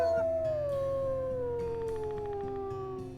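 A wolf in a video game lets out a single long, clear howl that slowly glides downward in pitch over about three seconds, loud and close, with no talking.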